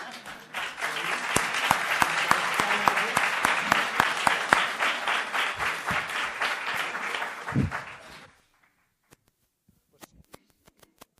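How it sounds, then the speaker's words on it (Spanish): Audience at a talk gives sustained applause to encourage a speaker, dense steady clapping for about eight seconds that stops abruptly, followed by a few stray claps in near silence. "le damos un aplauso para que se anime"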